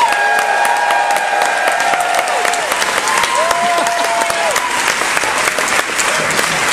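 Loud, dense applause from a comedy-show crowd at San Francisco Sketch Fest greeting a comedian taking the stage, steady and full throughout with whoops and cheers rising above the clapping and some crowd voices mixed in.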